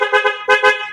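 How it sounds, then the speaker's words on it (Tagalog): A Yamaha NMAX V2 scooter's horn, just repaired, is tested with two short, loud honks in quick succession, close by. "pati yung kanyang busina. Subukan natin."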